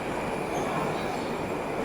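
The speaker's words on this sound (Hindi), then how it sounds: "तो ये देख सकते हो आपकी उज़्बेकिस्तान की ट्रेन जो है ऑलरेडी निकल चुकी है यहाँ से।" A USSR-era metro train leaves a Tashkent underground station with a continuous heavy rumble and wheel noise, loud and steady throughout, with no talking.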